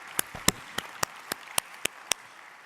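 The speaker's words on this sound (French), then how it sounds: "Je voudrais que vous applaudissiez la Fondation," Sparse, scattered claps ring out in a meeting hall for a foundation, about eight distinct sharp hand claps spaced irregularly, faint and without talk.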